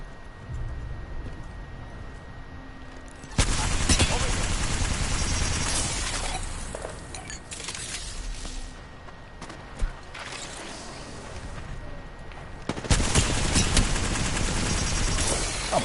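Bursts of automatic gunfire in the battle royale game Apex Legends, with loud sustained volleys separated by quieter stretches of game ambience.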